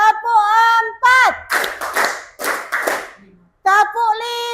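A school class claps hands in rhythm during a biology lesson, with sharp bursts of many claps alternating with children's chanting voices and a short pause near the end.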